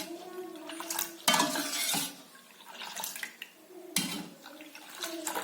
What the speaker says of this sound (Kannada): ಸಕ್ಕರೆ ಹಾಕಿದ್ಮೇಲೆ ಈ ತರ ಚೆನ್ನಾಗಿ ಕಲಿಸ್ಕೊಳ್ಳೋಣ